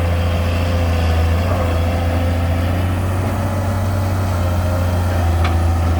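Komatsu PC200-3 excavator engine running at a steady idle during land clearing, a constant deep hum with a strong low drone, loud and close with no talking.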